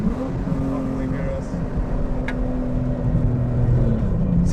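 A BMW E46 M3 with track modifications drones along with its loud exhaust, a steady heavy engine rumble heard from inside the car with no break.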